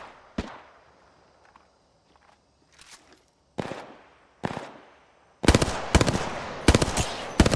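Video game machine gun fire breaks out in sharp, loud bursts, starting as scattered single shots and building into dense rapid volleys near the end, with no talking.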